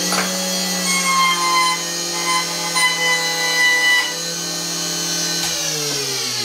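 A chamfering machine making a light deburring cut on metal gives a loud, steady high-pitched whine with layered tones, close and continuous, with slight shifts in pitch as the cut proceeds.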